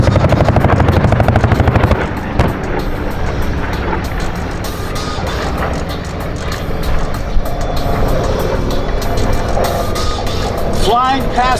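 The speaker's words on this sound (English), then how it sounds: "Here come the North American B-25 PBJ and the B-25, the Mitchell bombers." North American B-25 Mitchell and PBJ bombers making a pass at the Yuma airshow, a loud, continuous roar of piston engines that holds steady and swells slightly as the aircraft go by, with no talk over it.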